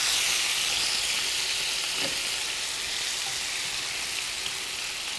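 Prosciutto sizzling in a pan of browned butter and balsamic vinegar gives a steady, hissing fry that stays even and close from start to finish, with no talking.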